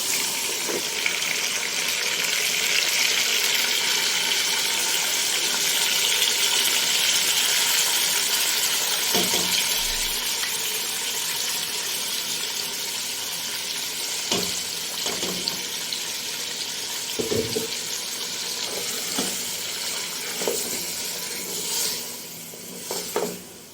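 Ground spice paste is tipped into hot ghee for beef paya, giving a loud, steady frying sizzle throughout with a few brief clinks and scrapes of a utensil against the pot.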